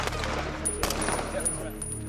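Rapid gunfire during a military commando training exercise crackles in quick bursts, with sharp cracks among a busy, noisy background.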